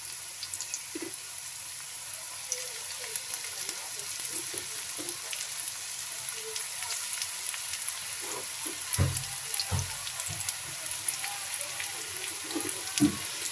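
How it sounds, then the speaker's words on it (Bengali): Jute leaf fritters (piyaju) frying on low heat in a cast iron tawa, a steady close sizzle with small popping crackles throughout and no talk. "এখন ভেজে নিচ্ছি, কম আঁচে নিতে হবে।"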